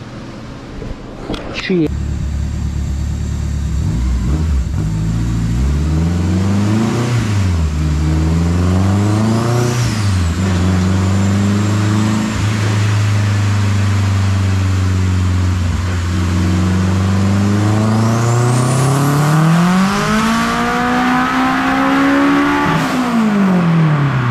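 A turbocharged K24 engine in a Honda EK hatchback revs on a dyno at night, loud and close: repeated rising and falling pulls climb to a long high-rev run, with turbo whistle above the roar and voices talking over it.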